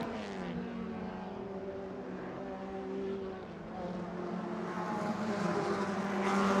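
Vintage Alfa Romeo race cars blast out of the Andretti hairpin at the Monterey Motorsports Reunion, a faint, distant engine drone that climbs steadily in pitch and loudness as they accelerate toward the next turn.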